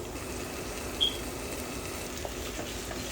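Shrimp sautéing with onions in a pan for a shrimp curry, giving a soft, steady sizzle with a faint stirring clink near the start.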